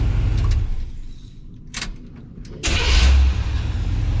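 A rebuilt 1976 GMC engine dies, then cranks and fires right back up into a loud, rough idle close by. Brief clatter and rumble come before it catches again.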